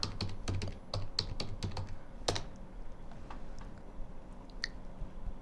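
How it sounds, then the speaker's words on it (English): Quick clicking keystrokes on a computer keyboard while typing into a search bar, a close, quiet burst of rapid taps followed by a few scattered presses, with no talk. "in the search bar after the Facebook type"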